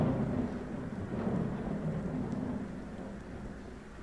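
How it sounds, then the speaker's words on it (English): Thunderstorm with low, continuous thunder rumbling and a hint of rain, a steady deep roll that swells slightly and then eases, with no voices. "Storm will be over soon."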